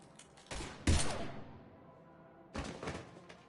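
Gunfire in the video game Mass Effect 3: a few sharp bursts of shots with thuds, one at the start and another after a pause, separated by a quieter stretch.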